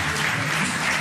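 A conference audience applauding the translators at a public talk on the coronavirus, a dense, even roar of many hands clapping throughout one brief second.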